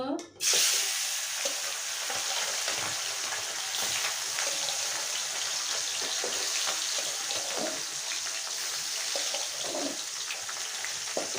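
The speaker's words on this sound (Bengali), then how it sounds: "এখন আমি মাছগুলো ভেজে নেব।" Chengu fish fry in hot oil in a wok with a loud, dense sizzle. A sharp burst at the start is the fish going in, then an even crackling hiss holds for the rest, with no talking.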